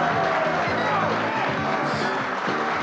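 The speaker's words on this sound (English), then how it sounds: "Let's hear a big round of applause for our Highstacks champion, Big Moose Wheeler." Studio audience at a game show cheering and clapping for the Highstacks champion, a dense, loud crowd roar with whoops throughout.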